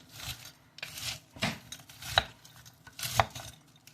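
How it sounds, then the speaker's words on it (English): Frozen peas stirred in a pot, a series of close scraping and rattling strokes with short pauses between them, and no talking. "I'm just going to give this a little stir."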